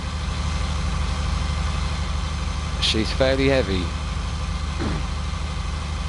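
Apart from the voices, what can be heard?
tractor engine idling in the video game Farming Simulator 19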